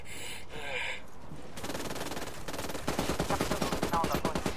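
Gunfire in Ghost Recon Wildlands, a few scattered shots followed by long rapid automatic bursts, growing louder toward the end, with a voice speaking briefly.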